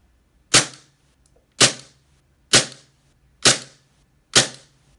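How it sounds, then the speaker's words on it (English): A WE Glock airsoft pistol fed from a small baby magazine fires five sharp, evenly spaced shots about one second apart, each a crisp snap with a short decay, loud and close with quiet between. "successful with locking back and firing all 5 shots"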